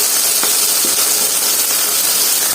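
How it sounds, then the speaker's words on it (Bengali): Dried loitta (Bombay duck) fish frying with onion and salt in a pan, giving a steady, loud hiss and sizzle with a few faint clicks and taps, and no voices. "এখন পেঁয়াজ লবণ আর শুটকিটা আবার ভেজে নেব।"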